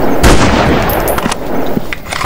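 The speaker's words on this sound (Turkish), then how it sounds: "Adamı kaşından vurdum ya." Loud, close bursts of rapid automatic gunfire from The Last One, a Turkish-made video game, packed densely into a short stretch.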